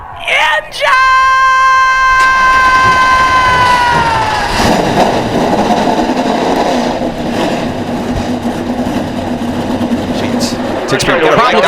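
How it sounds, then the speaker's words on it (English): NASCAR race car engines fire up together at Las Vegas, a loud roaring rumble that builds and holds for several seconds, preceded by a sustained shouted command and crowd yelling. "Drivers, start your engine!"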